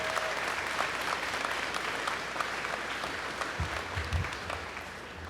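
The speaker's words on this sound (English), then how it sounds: "So a round of applause for all of you being here" A graduation audience applauds steadily throughout, a dense wash of many hands clapping in a large hall with faint murmurs underneath.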